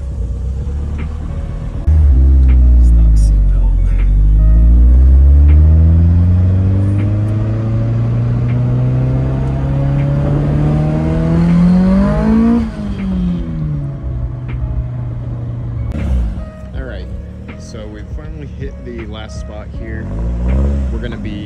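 A Nissan S14 pulls away and accelerates hard, its engine note climbing through several gear changes before cutting off, followed by quieter rumbling and clatter.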